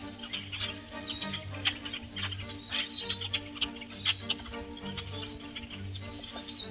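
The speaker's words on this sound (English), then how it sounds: "Every winter, swarms of blackbirds are seen at the farm." Winter flock of blackbirds at a farm flying and feeding, a busy chorus of overlapping chirps and sharp calls over a low rumbling background, moderately loud and continuous.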